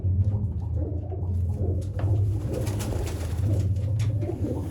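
An Ali Wala pigeon, a Sialkoti breed, coos close and loud in a steady, throaty rolling stream, its low repeated coos forming an almost continuous rhythm with no voices.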